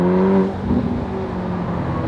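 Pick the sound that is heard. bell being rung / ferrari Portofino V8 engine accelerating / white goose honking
ferrari Portofino V8 engine accelerating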